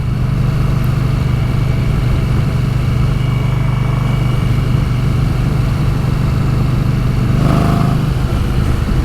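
Steady, loud low engine rumble from an Indian Scout Bobber motorcycle, idling or cruising close by, with a brief rise in revs near the end.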